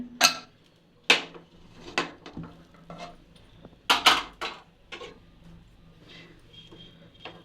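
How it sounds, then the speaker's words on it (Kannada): A cooled pressure cooker has its whistle weight lifted off in a home kitchen, giving several sharp metallic clinks and taps spaced irregularly, close and fairly loud, with quieter rattles in between. "ಕುಕ್ಕರ್ ತಣ್ಣಗಾಗೈತೆ ಇವಾಗ ವಿಸಿಲ್ ತೆಗಿತಾ ಇದ್ದೀನಿ"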